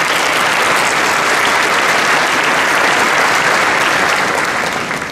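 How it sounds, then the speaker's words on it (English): A large conference audience at OCE Discovery in Toronto gives loud, sustained applause, a thick even roar of clapping that begins to fade only at the very end. "a round of applause for the great OCE"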